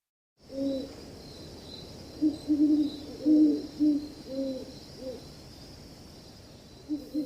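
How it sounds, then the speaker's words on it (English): Two horned owls hooting in a duet at twilight from a bare branch: a series of deep, soft, rhythmic hoots trading back and forth over a steady high insect drone. "Two horned owls duet in twilight from a bare branch."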